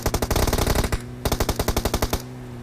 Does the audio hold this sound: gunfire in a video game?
yes